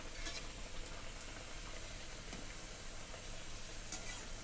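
Karanji pastries, four or five at a time, frying in hot oil, giving a soft continuous sizzle with faint crackles and occasional light scraping from stirring, close and quiet with no talking.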